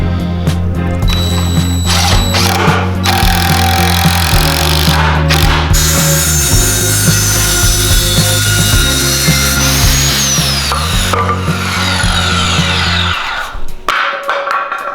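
A power saw cuts through wooden table legs for a homemade motorcycle lift, a loud, steady whining rip that holds for about thirteen seconds before the blade spins down and stops.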